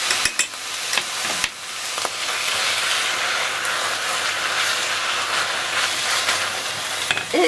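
Leek compote cooking in a pot with dry white wine, tomato paste, salt and vinegar, stirred with a steady scraping and sizzling hiss, framed by a few clatters of the utensil at the start and end.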